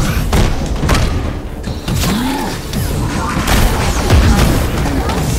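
Combat in the Marvel's Avengers video game, with heavy booms, thuds and mechanical clanks piling up in a dense, loud battle mix while a voice talks over the action.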